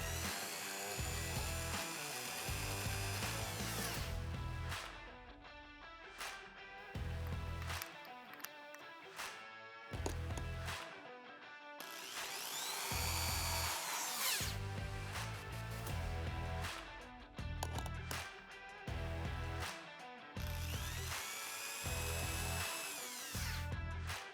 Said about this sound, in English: Now reinstall the last 2 10mm bolts.